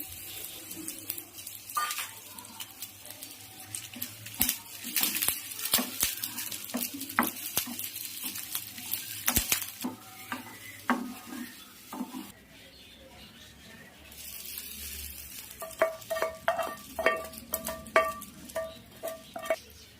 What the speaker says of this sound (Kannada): ಎಣ್ಣೆಗೆ ಸಾಸಿವೆ, ಸ್ವಲ್ಪ ಸಿಡಿದಿದ ತಕ್ಷಣ ಕಡಲೆಬೇಳೆ, ಒಣಗಿದ ಮೆಣಸು, ಹಾಗೆ ಸ್ವಲ್ಪ ಕರಿಬೇವಿನ ಸೊಪ್ಪು ಇವಿಷ್ಟನ್ನು ಹಾಕ್ಕೊಂಡು ಫ್ರೈ ಮಾಡ್ಕೊಂಡು